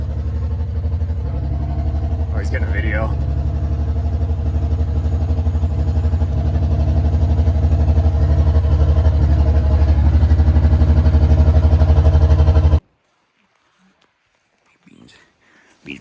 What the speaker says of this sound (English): my dad's got to move his truck now